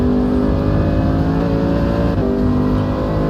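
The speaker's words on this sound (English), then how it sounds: "Back on the loud pedal for the fast left-hander and then braking to the right-hander now." A DTM race car in a sim racing game at the Polish Grand Prix, heard onboard: a loud, steady engine drone that dips under braking and then climbs again as the throttle opens.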